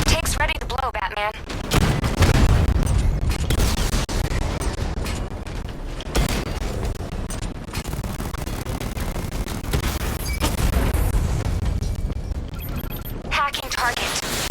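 Loud, dense battle din from a Batman: Arkham Knight tank fight, with heavy blasts and rattling gunfire sustained throughout, booming low rumble, and voices talking over parts of it.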